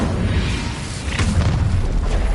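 An Incendio fire spell bursts in Hogwarts Legacy with a loud, dense blast and a sharp flare near the middle, over constant rumbling combat noise.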